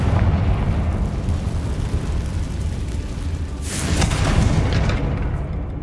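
Spell explosions in a wizard video game: low rumbling booms, then a sharper blast burst midway that decays into rolling rumble, with no talk.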